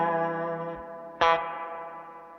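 Electric guitar through an Anasounds Elements spring reverb pedal with the highs turned up: a sustained chord rings, cuts off, then a bright fresh strum sounds and trails into a long, shimmering spring-reverb tail, heard alone.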